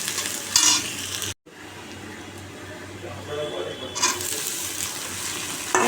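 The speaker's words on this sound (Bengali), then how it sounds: "আমি পেঁয়াজ কাঁচা লঙ্কা কেটে রেখেছিলাম এটা দিয়ে দিচ্ছি এটা একটু লাল করে ভেজে নিয়ে" Chopped onion and green chilli fry in a pan with a steady sizzle and some stirring, at moderate loudness, broken by a brief silent gap and joined by bursts of kitchen noise and running water.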